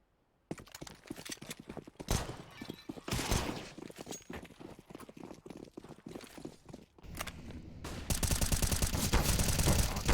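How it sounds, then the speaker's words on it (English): Rapid bursts of rifle gunfire from a Counter-Strike match on the Mirage map, dense volleys and clattering shots layered with footsteps, intensifying into a sustained loud barrage near the end. "Walker drops 3 top mid with the A1 as Consi backs him up for those final 2"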